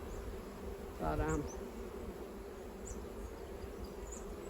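Bees hum around a busy beehive as a steady low buzz under faint background noise. A brief word is spoken near the start of the clip.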